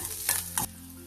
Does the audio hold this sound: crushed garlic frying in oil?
yes